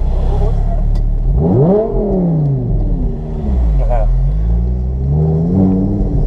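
An Audi R8 engine revving at the beach: loud, close roar that climbs and falls in repeated swells over a steady low rumble, with people talking over it.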